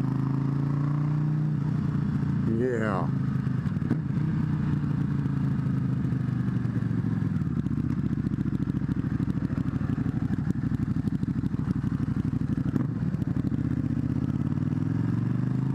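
A Buell 1125CR motorcycle engine idles and revs steadily, loud and close, a continuous throbbing rumble that dips and swells over about sixteen seconds, with a brief word spoken once.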